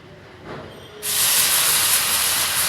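Mutton with salt and turmeric is stirred in a pan. After a quiet second, a loud, steady sizzling hiss bursts in and keeps going, close up.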